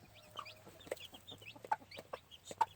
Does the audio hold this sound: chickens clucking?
yes